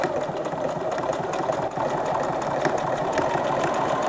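A home sewing machine runs a zigzag overlock stitch, a fast, steady mechanical whirr with rapid needle ticking, close and continuous with one brief dip, no voices.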